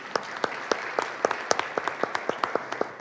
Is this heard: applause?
yes